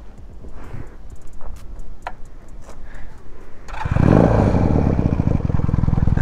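A 125cc two-cylinder chopper motorcycle starts up after some clicks and light knocking, then its engine rumbles loudly and steadily nearby as it pulls away.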